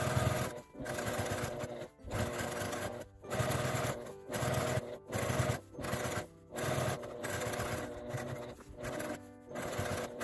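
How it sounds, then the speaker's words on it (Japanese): Domestic sewing machine running a continuous edge stitch around the opening of a lined fabric food-storage bag, with steady mechanical whirring broken by short pauses, close and alone. "返し口の空きの真ん中あたりから一周端ミシンをかけます。"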